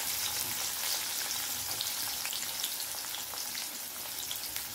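Cumin seeds and sliced onion frying in hot oil for potato bhaji, a steady close crackling sizzle with scattered pops, no talk.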